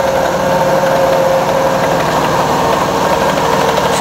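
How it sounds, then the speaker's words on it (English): A 1969 Snow-Trac with a four-cylinder Beetle engine running under its own power after decades idle, a loud, steady close-up engine drone with a rough, knocking rhythm, heard alone. "This is a 1969 Snow-Trac, four-cylinder Beetle engine, operating under its own power for the first time"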